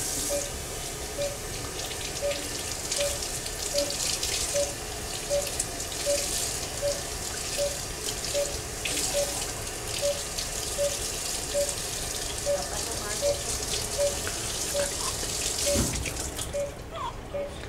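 Water runs steadily from a tap in a continuous hissing stream, close by, with a faint regular ticking underneath and no voices.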